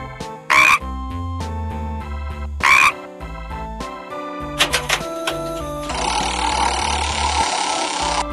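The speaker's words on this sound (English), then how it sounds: "Frog." A cartoonish frog croak sounds twice in short, sharp bursts over a playful electronic children's-game backing tune, followed by clattering musical effects.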